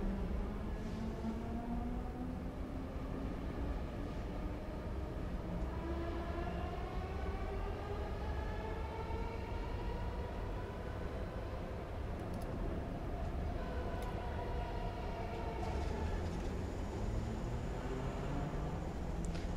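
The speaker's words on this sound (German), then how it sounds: "da kommt unsere Gegenbahn um die Ecke gedüst" A suspension railway train rolls past in a video game with a steady rumbling drone and rising, sweeping tones, continuous and fairly loud throughout, with no voices.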